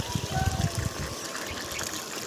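Irrigation water flows into a fodder grass field, gurgling in uneven bursts at first and then settling into a steady, quieter rush.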